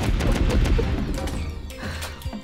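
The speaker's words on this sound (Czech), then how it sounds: "Ale Maki střílí, v pohodě" Bursts of gunfire ring out in the Roblox Shark Bite video game, rapid clustered shots with crashing impacts at moderate loudness, repeated across the moment.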